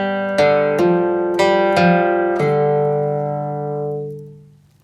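An acoustic guitar plays a country bluegrass lick in G, a run of five crisp plucked eighth notes ringing together before a long, fading sustain.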